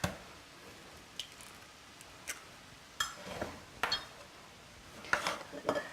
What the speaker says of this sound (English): I usually like to crack the eggs in a bowl before I put them in.